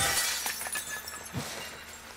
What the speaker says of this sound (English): Just like the commercial, smash glass.